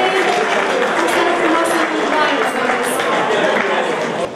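Audience applause at an economic gala in Vâlcea for young musicians from the Victor Giuleanu arts high school, a steady crowd clapping that fills the hall, with some murmuring chatter.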